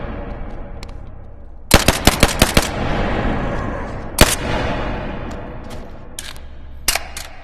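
Suppressed gunfire from a pistol in the VR game Bonelab comes as a quick burst of five sharp cracks, then scattered single shots over a steady background hum, with no talk.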